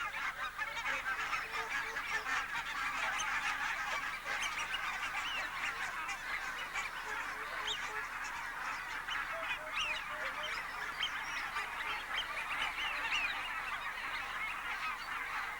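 A huge wintering flock of barnacle geese from Svalbard honking continuously, a dense, unbroken chorus of overlapping calls at moderate distance with no talk over it.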